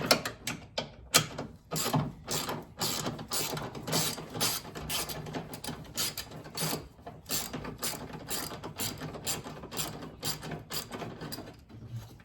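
A 10 mm socket ratchet on an extension clicks steadily while bolts are removed from a bar over the air box of a 2015 Chevy Silverado 1500 LT, making a close, rapid stream of sharp ratcheting clicks with brief pauses.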